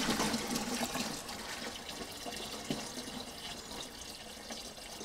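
Water pours into a Brewzilla 4.1 home beer-brewing machine for the mash, a steady splashing rush with a brief knock partway through, close and continuous throughout with no voices.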